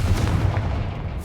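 The Confringo blasting spell goes off in Hogwarts Legacy as one loud, close explosive boom with a low rumbling decay that fades over about a second.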